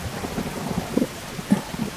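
Rain falling steadily in a survival game, with low rumbles of thunder rolling underneath, a soft continuous wash with a couple of stronger thumps.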